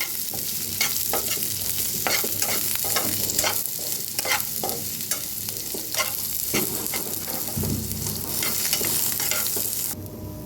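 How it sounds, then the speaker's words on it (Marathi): Cumin, sesame, coriander seeds, coconut and onion roasting in a pan for katachi amti, with a continuous dry sizzle broken by repeated scraping stirs of a spatula, close and steady throughout. "खोबरं कांदा हे सगळं चांगलं भाजायला लागले बघा"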